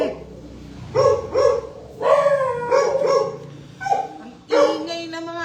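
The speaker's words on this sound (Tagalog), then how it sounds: "Ang ingay ng mga aso mo, Boss D, ah." Several dogs barking loudly and close by in repeated short bursts and yips, with voices faintly in the background during a morning tongits card game.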